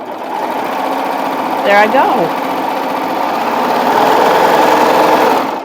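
A serger overlock machine runs a 3-thread overlock stitch on a wide width setting, buzzing loud and steady from close by for the whole stretch, while a voice speaks briefly over it.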